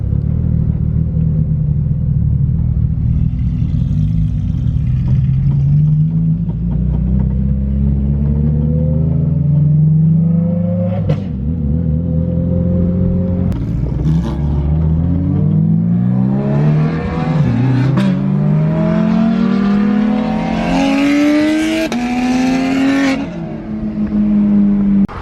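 A BMW E36 with a 1.5JZ engine drives and revs in an empty parking lot, its loud, close exhaust rumbling and climbing through repeated rising revs and gear changes, growing harsher and busier toward the end.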